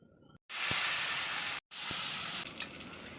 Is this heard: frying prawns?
yes